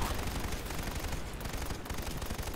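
Rapid automatic fire from an XMG-100 machine gun in PlanetSide 2, a dense unbroken stream of shots lasting the whole stretch at steady loudness, with no pause in the burst.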